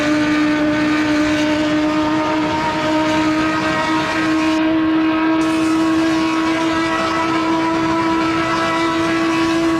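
A race car engine held at full throttle in Assetto Corsa, a loud, steady high-pitched drone with a strong constant tone that barely changes pitch across the whole stretch, no voices.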